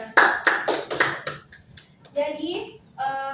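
A classroom group of students clapping together during a lesson, a brief run of sharp, close claps that stops after about a second, followed by someone speaking.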